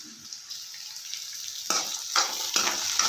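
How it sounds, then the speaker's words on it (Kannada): Tomatoes and onions frying in a pan for vermicelli upma: a soft, steady sizzle broken by a few sharper scraping stirs near the end, close and fairly quiet with no voices. "ಒಂದು 2 ನಿಮಿಷ ಟೊಮೊಟೊ ಮೆತ್ತಗಾಗೋವರೆಗೆ ಹುರ್ಕೊಳ್ಳೋಣ."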